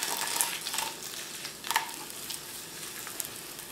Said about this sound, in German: jetzt werde ich die Kartoffeln nur schwenken